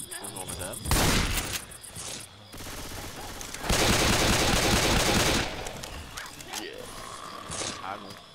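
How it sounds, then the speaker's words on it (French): Gunfire in the zombie shooter Left 4 Dead 2, with bursts of rapid shots in two long loud volleys separated by quieter stretches, plus clatter and scattered pops around them. "Je me suis fait tirer dessus."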